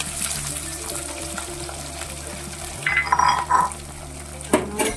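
Shallots, garlic and green chilli sautéing in a pan, a steady low sizzle with occasional soft clinks and scrapes of a spoon stirring midway and near the end, no voices.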